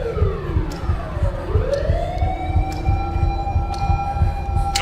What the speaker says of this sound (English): Oh, here come the police. I hear the siren.